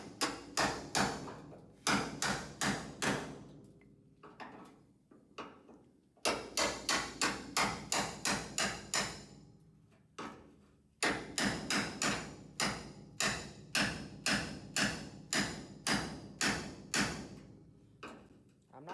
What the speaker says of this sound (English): Got a big hammer, but I'm just letting the hammer work